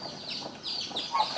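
A weak baby chick, still carrying bits of its membrane, cheeps close by in a rapid series of thin, high peeps.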